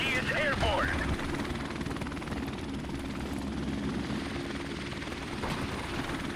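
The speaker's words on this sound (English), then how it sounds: "Friendly helicopter on the way." A friendly helicopter in Call of Duty: Modern Warfare Remastered multiplayer gives a steady rotor and engine drone under game sounds, with a voice speaking briefly near the start.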